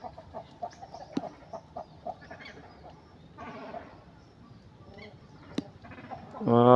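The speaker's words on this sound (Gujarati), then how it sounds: "જો આ બતક," Ducks at a green pond, a series of short honking quacks at moderate distance over faint outdoor background, with a brief louder knock near the end and no clear talking.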